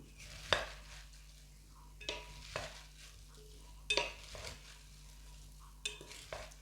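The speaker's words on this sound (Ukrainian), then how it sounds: "Заправляємо салат нашою заправкою. Гарненько перемішуємо." A fresh vegetable salad with cheese and olives is tossed with its dressing, giving several separate wet, clattering stirs at an uneven pace, close by and with no voices.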